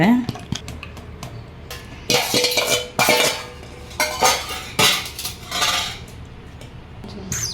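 Ground mint drink is strained, with clinking utensils and scraping against a vessel in irregular bursts, fairly close and loud, while someone talks in between.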